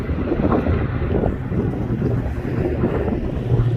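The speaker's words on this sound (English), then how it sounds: "It's windy, man." A strong wind roars steadily across the microphone outdoors at a BMX session, a dense, low, buffeting rumble with no voices.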